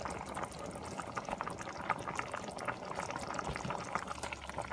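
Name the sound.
macaroni and potato soup boiling in a pot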